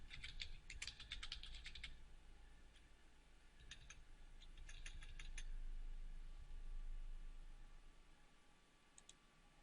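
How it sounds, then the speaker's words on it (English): Faint bursts of clicking computer-keyboard typing come in two or three short clusters, with quiet pauses and a low background hum between them. "I wonder if I can get there just by typing in System Properties."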